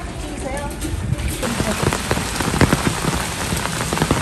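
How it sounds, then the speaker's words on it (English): Heavy rain pouring in Korea, a loud, dense, steady hiss of drops beating on surfaces close by, with scattered sharper splashes throughout. "Crazy rain."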